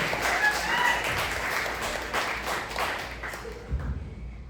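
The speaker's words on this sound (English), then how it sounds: "Thank you very much for clapping for a complete stranger" Comedy club audience applauding a comedian, a full wash of clapping that holds steady for several seconds and then tapers off.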